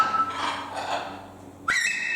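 A parrot at Longleat's bird show gives a clear, clean whistle near the end, rising briefly and then holding steady, close and fairly loud over a faint background hum.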